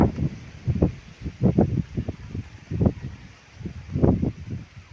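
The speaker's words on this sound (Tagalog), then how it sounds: "Mahangin guys oh." Outdoor wind gusts in uneven bursts, buffeting close to the microphone with rustling, rising and falling over several seconds with no talking.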